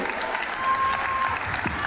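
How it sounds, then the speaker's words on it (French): Applause fills a pageant hall during the Miss Hauts-de-Seine contest, a continuous, fairly loud rush of clapping from the audience with a faint tone and some murmuring underneath. "On peut applaudir tous ces partenaires cadeaux."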